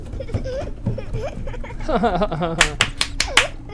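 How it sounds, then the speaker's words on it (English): Sharp claps ring out near the end of a horror video game scene, a quick run of loud hand claps after stretches of strange warbling, chirping sounds and a person talking. "Why are we clapping?"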